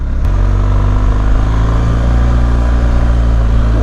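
A BMW R 1250 GS motorcycle engine gives a loud, steady rumble with a low, tractor-like chugging tone, running continuously close by with a slight rise in revs.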